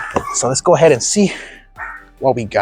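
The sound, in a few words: dogs barking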